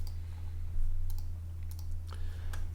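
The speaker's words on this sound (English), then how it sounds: "I'm going to double click that" Computer mouse clicked during work in Vue 3D rendering software: a few sharp, close clicks in quick pairs over a constant low electrical hum, with no talking.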